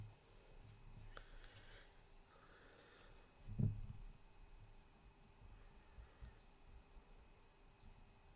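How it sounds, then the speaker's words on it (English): Small birds cheep outdoors in short, faint, high chirps repeated at intervals, with low background rumble and one brief louder thump partway through. "You hear little birds cheeping out there?"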